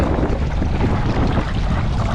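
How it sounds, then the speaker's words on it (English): Sailboat engine idling in neutral at sea off the Portuguese coast after a clogging problem, a continuous low rumbling drone mixed with wind buffeting the microphone. "I'm just running the engine in neutral revs, just to put a bit of a load on it"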